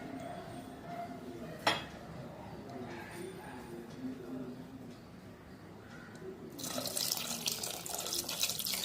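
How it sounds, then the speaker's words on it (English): Water pours into a pan of egg and brinjal curry gravy made with grated coconut, a loud broad rushing stream starting partway through after quieter kitchen clinks, close and steady. "according to the gravy how you require, we have to add water"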